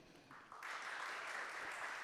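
Applause from a conference audience welcoming a speaker on stage, rising after a brief start and then holding steady as a fairly faint, continuous clatter of many hands.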